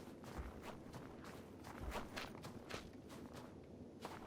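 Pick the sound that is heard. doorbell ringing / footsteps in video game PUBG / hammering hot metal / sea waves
footsteps in video game PUBG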